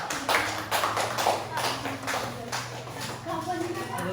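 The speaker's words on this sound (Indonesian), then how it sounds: "Beri tepuk tangan untuk kelompok 3." Classroom applause for a student group: a burst of scattered, irregular clapping from many hands, moderately loud and close, mixed with murmuring voices.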